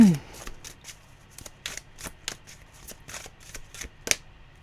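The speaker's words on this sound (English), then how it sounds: "I have to listen out for when to stop shuffling." Tarot cards being shuffled in a quiet room, a run of soft, crisp riffling snaps at irregular intervals, close and with no voices.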